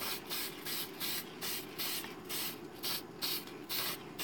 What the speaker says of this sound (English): this is Tester's Dull Coat, which is a clear spray lacquer with a matte finish